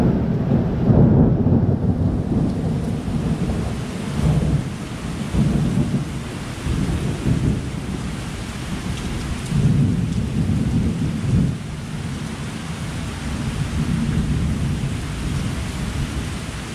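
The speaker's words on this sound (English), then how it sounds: "It just started pouring." A heavy downpour hisses steadily at Disney World while thunder rumbles and rolls repeatedly underneath, loud and close, with wind buffeting the microphone and no voices.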